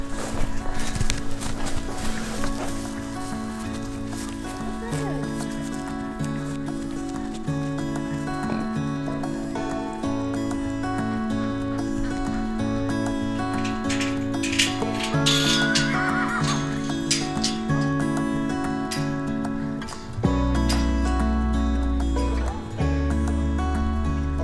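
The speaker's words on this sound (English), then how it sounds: "sure enough, Josie throws a kick" Horses, including an Appaloosa, walking with clip-clop hooves and repeated neighing and whinnying, close and clear over steady tonal music in the background.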